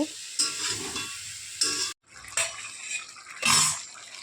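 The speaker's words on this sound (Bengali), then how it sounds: "ভেজে রাখা মাছের মাথা দিয়ে দেব দিয়ে কিছুক্ষণ নাড়াচাড়া করব" Fried fish heads being stirred into a pan of cauliflower stalk curry, a scraping, sizzling stir in several bursts with a brief break midway, close and fairly loud, no voices.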